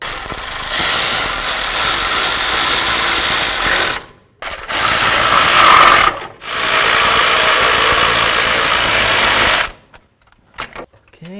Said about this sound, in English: With them all in there, let's go ahead and snug them up,